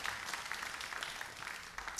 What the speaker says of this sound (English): Give us some applause, everybody, as they join us here today